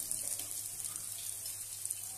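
Asafoetida drops into a small tempering of hot oil for a UP-style green pea nimona, giving a steady, close hissing sizzle with faint crackles throughout.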